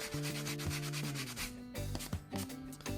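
Sandpaper rubs back and forth across hard Type 3 plaster in a steady rhythm of close, gritty scraping strokes, broken by a brief pause.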